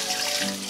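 Water pours steadily into a pressure cooker pot holding pig trotters, a brief close splashing gush with no talking.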